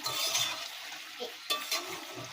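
A hilsa fish head curry being stirred in a pan, with soft scraping and a gentle sizzle, a couple of louder utensil knocks partway through, close and steady with no talk.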